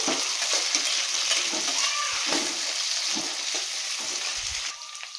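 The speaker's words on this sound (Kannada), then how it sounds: "ಈರುಳ್ಳಿ ಗೋಲ್ಡನ್ ಬ್ರೌನ್ ಕಲರ್ ಬರೋ ಅವಶ್ಯಕತೆ ಇಲ್ಲ, ಸ್ವಲ್ಪ ಫ್ರೈ ಆಗಿ ಸಾಫ್ಟ್ ಆದರೆ ಸಾಕು." Onions frying in a pan until soft, with a steady close-up sizzle and crackle throughout, broken by occasional soft stirring scrapes before easing off at the end.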